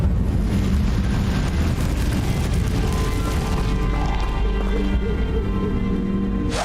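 Incendio fire spell from Hogwarts Legacy, a sustained roaring whoosh of flame that stays loud and steady for several seconds, dense and low, before cutting off abruptly.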